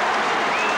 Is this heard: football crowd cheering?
yes